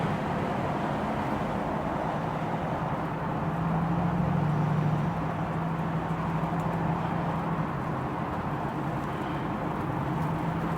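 A 1965 Ford Mustang's engine runs in a steady, continuous, low rumble close by, holding an even level for about eleven seconds with a brief swell partway through and no talking.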